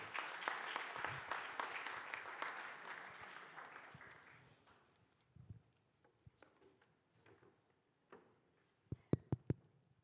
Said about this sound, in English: please give our final speaker a big round of applause